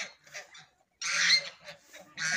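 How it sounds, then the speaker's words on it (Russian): A white rooster with a slightly colored tail crows in the dark, giving harsh, raspy bursts with a loud, long call in the middle and another starting at the end, all fairly close. "Вот тот петух поет."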